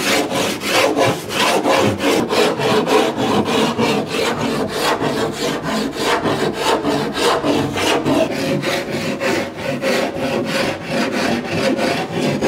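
A wooden stand-up paddleboard is smoothed during shaping with a hand tool, giving loud, close, steady rhythmic rasping strokes, roughly two per second, with no voices.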